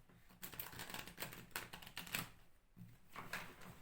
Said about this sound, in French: Je vais remélanger un petit peu tout ça.